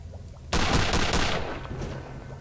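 Enemy gunfire in Return to Castle Wolfenstein erupts suddenly after a quiet half second: a loud burst of rapid shots with a ringing tail that fades over the next two seconds.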